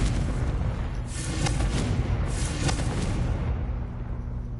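A Confringo spell blast from Hogwarts Legacy, a rumbling explosive burst with a few sharper cracks rising out of a continuous roaring wash, loud and near, with no talk.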